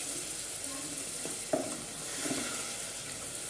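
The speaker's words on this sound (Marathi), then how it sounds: "त्यानंतर मी इथे मिक्सरमधून टमाटे हे काढून घेतले होते, तर त्याचं सार मी इथे याच्यामध्ये ॲड करणार आहे" Blended tomato puree sizzles in a frying pan for rajma curry, with a steady hiss throughout and a few soft clinks and stirring scrapes at close range.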